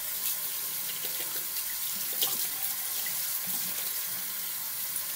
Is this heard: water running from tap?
yes